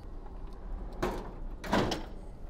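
Two muffled sliding clunks about a second apart, the paper drawer of an HP DesignJet printer being pushed shut, against a steady low background hum.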